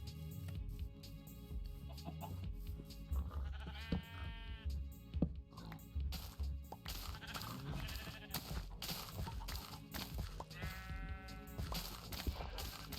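Sheep bleating in the Minecraft video game, two clear quavering bleats standing out over busy game sounds and background music.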